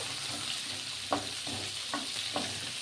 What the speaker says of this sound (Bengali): এই আলু আর পটল সুন্দর করে ভাজতে হবে।